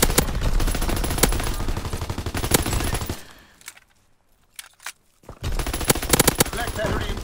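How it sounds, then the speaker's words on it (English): Mortar rounds pound down in Call of Duty: WWII, a loud, continuous barrage of blasts and gunfire that drops almost to silence midway, leaving a few scattered hits, then erupts again. "Sending mortar rounds, zone and sweep."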